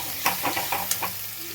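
Spice paste with turmeric water sautéing in a pan, a soft steady sizzle broken by several brief scraping stirs of a spatula, close by, with no talking.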